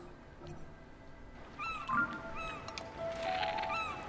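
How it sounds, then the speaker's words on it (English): Seagulls in Zelda: Tears of the Kingdom: several short, squealing gull cries, some repeated in quick bursts, ring out over a soft ambient game backdrop, moderately near. "Seagulls."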